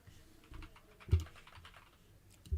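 Typing on a computer keyboard, sparse and quiet keystrokes with a couple of louder thumps, heard close in an otherwise still room with no one talking.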